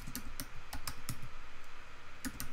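Typing on a computer keyboard, a quick run of close, crisp key clicks with uneven rhythm in a quiet room.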